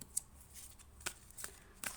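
Tarot cards are shuffled in a few quick riffling bursts, close and crisp, with quiet pauses between.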